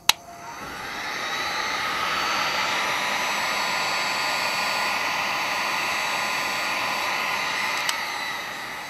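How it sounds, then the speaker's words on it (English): A heat gun blowing hot air onto a square of plastic starts with a click, then a loud, steady close whirring rush that holds evenly, with a small click near the end. "I'm going to bring in a heat gun, give it a little bit of heat."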